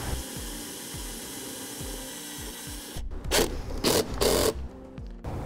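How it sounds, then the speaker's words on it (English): Pre-attached ring terminal of a trailer wiring harness ground wire fastened to the body of a 2015 Chevrolet Equinox, a short run of power-tool whirring bursts after a stretch of rhythmic background hum, close and moderate, no talk. "we'll take the white wire with the pre-attached ring terminal and secure it to the body"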